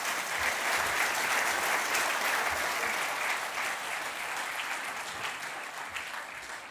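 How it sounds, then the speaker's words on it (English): An audience gives a panel a big, sustained round of applause at a competitiveness programme report event, steady dense clapping that fills the room and fades slightly toward the end. "could I invite you all to a big round of applause to our panel?"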